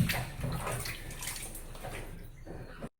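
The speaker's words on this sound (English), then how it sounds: "Then rinse it with water again," Salted cabbage rinsed under running water for kimchi, a steady broadband splashing and gushing that fills the whole stretch, then cuts off abruptly near the end.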